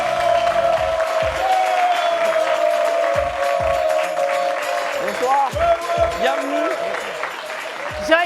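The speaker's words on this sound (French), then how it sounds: "Un tonnerre d'applaudissements pour Saïd, s'il vous plaît." A studio audience on a French television show breaks into loud applause and cheering, dense and continuous. Tonal music plays beneath it, and brief low thumps and rumbles punctuate the crowd noise.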